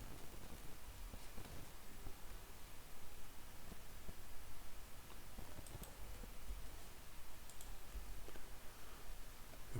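Faint, irregular clicks of code being typed on a computer keyboard in Mathematica, scattered through a steady hiss of background noise, with no talking.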